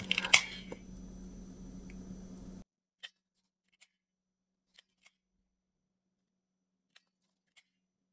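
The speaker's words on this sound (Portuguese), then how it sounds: "Nessa parte aqui que eu cortei com a tesoura também." A few sharp scissor snips cut fabric close up at the start, followed by silence broken only by scattered faint clicks.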